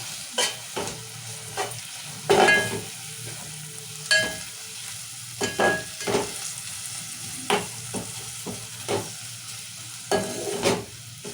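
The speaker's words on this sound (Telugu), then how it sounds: "ఇప్పుడు అల్లమిరగడ్డ పసుపు వేసాం కదా, ఇవి రెండు కలుపుకున్నాం" Onion, tomato, ginger-garlic paste and turmeric frying in a pan, a low sizzle broken by repeated scraping stirs at irregular intervals, close and without speech.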